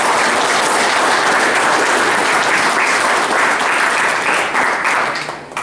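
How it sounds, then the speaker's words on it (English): A veterans' audience at an American Legion gathering applauds a speaker, Steve Knight, with dense, loud, steady clapping that fills the whole stretch before tapering slightly at the end. "So let's give him a great applause."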